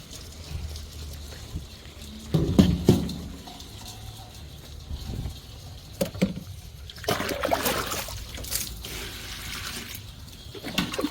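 Live rice-field crabs are washed in water, with splashing and sloshing in irregular bursts and brief pours and trickles in between, fairly close and without talk.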